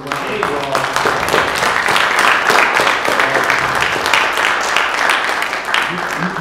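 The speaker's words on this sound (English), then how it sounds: "If we could give him a round of applause." Dense, continuous clapping from a workshop audience, loud and sustained throughout, with voices mixed in beneath.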